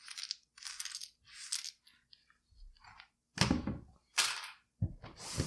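Thick cardboard game pieces being punched out of a punchboard, a series of short dry pops and snaps close by, some sharp and loud, separated by brief pauses.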